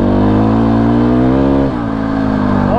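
KTM 500 EXC-F dual sport motorcycle engine braking, a loud close steady engine drone that shifts pitch partway through as the throttle changes, heard alone without talk.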